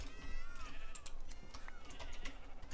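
Sheep bleating in Minecraft, several short, wavering bleats rising and falling at moderate distance over quiet clicking and faint background noise.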